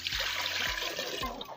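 Water trickles and splashes into a cooking pot over an outdoor village fire, a soft, close pour with faint dribbling.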